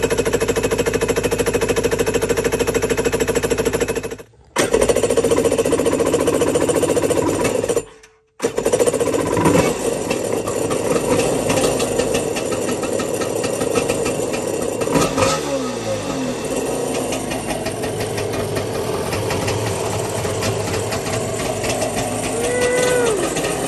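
A loud engine that had been sitting clatters and roars continuously, with two brief dropouts early on, then runs on steadily with uneven revving.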